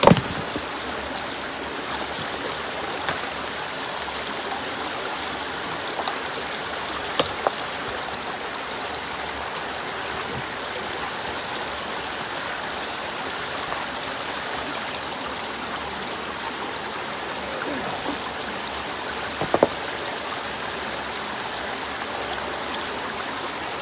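Creek water streams steadily through a pipe while gravel tumbles along inside it, a constant rushing wash with occasional faint knocks and clatters as stones shift, heard close and without talk.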